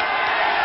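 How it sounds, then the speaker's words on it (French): Arena audience at a wrestling match applauding the Belgian wrestler, a brief dense wash of clapping and crowd noise, steady and fairly loud. "il y a beaucoup d'applaudissements pour le Belge quand même"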